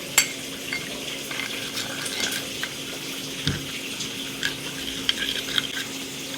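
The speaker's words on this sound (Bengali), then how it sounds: "এখানে অল্প জল দিয়ে দেবো আর মশলাটাকে আমি এরকম গুলে নেব" Water is poured into a bowl of ground spices with coriander powder and salt, and the paste is mixed by hand, giving soft wet stirring and gentle splashes at low volume with no speech.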